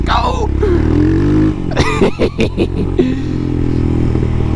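A Royal Enfield Himalayan motorcycle fitted with a Lextek exhaust rumbles over a gravel road with a steady low engine drone, while a few clattering bumps break in midway and a rider's voice comes through.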